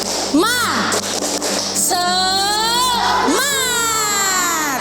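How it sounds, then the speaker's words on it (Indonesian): A class of schoolchildren shout a loud group cheer together, high voices rising and falling in unison, with a crowd-like roar filling a classroom throughout. "Tepuk semangat."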